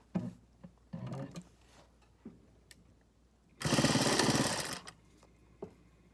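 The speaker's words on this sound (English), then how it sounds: "we're gonna sew along this edge here, and we're gonna sew as closely to that edge as possible" A sewing machine stitches along the edge of bed-sheet fabric for an isolation gown, with a few short, separate bursts of stitching and then a longer, steady run of rapid needle clatter up close.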